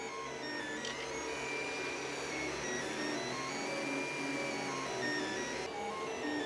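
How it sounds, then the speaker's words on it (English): 3D printer laying down PLA for a piston used as a casting mould, a faint steady whir with gliding stepper-motor tones rising and falling, close and continuous without talk. "we're printing with PLA on this particular piston"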